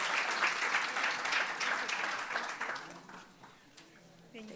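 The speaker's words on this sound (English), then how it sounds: "So let's give her a round of applause as she's proceeding to the stage." A university audience applauds at an entrepreneurship event as a woman walks to the stage, a broad wash of clapping that slowly thins out, with faint voices underneath.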